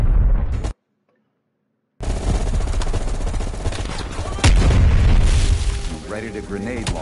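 Grenade launcher blasts and heavy gunfire from Black Ops Cold War, loud booming bursts with a brief silent gap before a sustained dense barrage and a bigger explosion midway.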